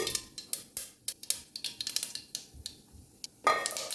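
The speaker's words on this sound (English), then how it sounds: "temper it with half a teaspoon of cumin seeds, about 8 to 10 peppercorns and half a teaspoon of rye or mustard seeds. Let that splutter." Cumin seeds, peppercorns and mustard seeds spluttering in hot oil: a steady scatter of sharp crackling pops over a low sizzle, close and fairly quiet, with no one talking.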